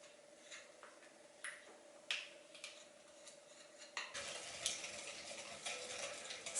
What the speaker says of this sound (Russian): Сладкую масляную смесь перемешиваю до однородности.